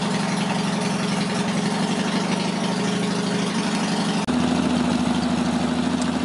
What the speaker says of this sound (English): It's going to idle it down again.